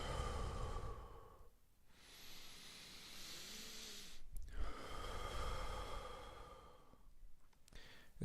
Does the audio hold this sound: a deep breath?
yes